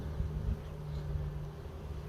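Honeybees hum in a steady low drone, close by and continuous, while a nuc hive is inspected, with no voices.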